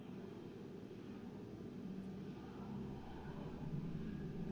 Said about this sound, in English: And wait for the engine to settle.